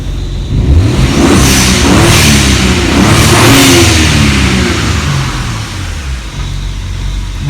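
A BMW E36 with an N54 engine and new exhaust is push-button started, revs up loudly a few times, then settles into a steady idle hum.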